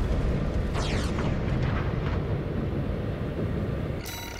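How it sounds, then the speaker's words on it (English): Missile explosions in the mech combat game Armored Core VI roll together into a loud, continuous rumbling blast with whooshing streaks, fading slightly before a sharp mechanical burst near the end. "Jeez, that's a lot of missiles."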